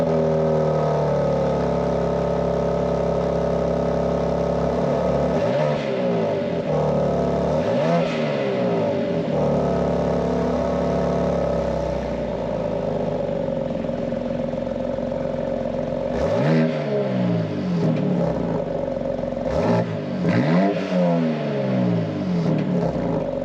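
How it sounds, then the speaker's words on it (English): BMW X3 M Competition LCI fitted with an M exhaust, heard at startup: a loud, steady engine drone with several sharp revving blips that rise and fall, captured up close with no talking. "let's go ahead and take a look at what this car sounds like on startup with this M exhaust"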